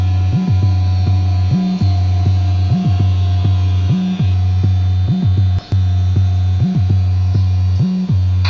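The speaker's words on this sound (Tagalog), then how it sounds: "Ang ingay ng tunog ng mga aircon," Several air conditioners hum together at a beach resort in Nasugbu, Batangas, a loud steady mains-like drone with a slow rhythmic throbbing pulse repeating roughly every second and a half, close and unbroken.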